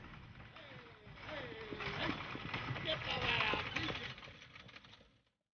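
Faint clip-clop of a horse-drawn coach's hooves plodding steadily at a distance in Yosemite National Park, with creaking and light rattling, mixed with a low voice and outdoor murmur.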